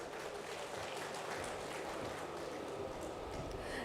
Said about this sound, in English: Honorable Minister also needs a lot of applause from all of you